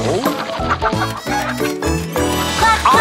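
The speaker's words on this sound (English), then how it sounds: "Cluck, cluck, cluck, cluck," Chickens cluck on a farm in a children's nursery song, short rhythmic clucks repeated over loud, bright music.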